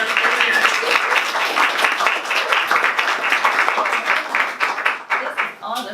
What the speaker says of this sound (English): Round of applause for Allison and all of her